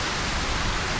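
Rain in the survival game Ylands pours as a dense, loud, even hiss with no distinct drops, filling the whole moment.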